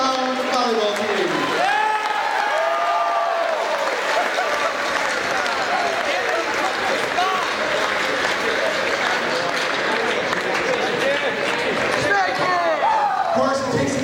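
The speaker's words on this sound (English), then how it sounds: "How about a nice round of applause for our state-bound volleyball team?" Applause and cheering from a school assembly crowd in a gym for the state-bound volleyball team, a sustained loud roar of clapping and shouts with voices mixed in, fading near the end.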